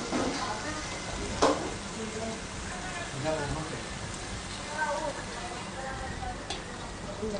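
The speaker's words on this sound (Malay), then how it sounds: "Bila minyak sudah panas, kita jatuhkan ketam" Hot oil sizzles and crackles steadily as crab fries for kam heong crab, with a few sharp pops and voices talking over it.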